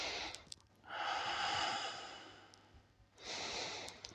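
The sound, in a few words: diaphragmatic breathing through the belly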